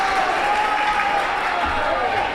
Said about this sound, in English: crowd's loud, great energy here in the gymnasium tonight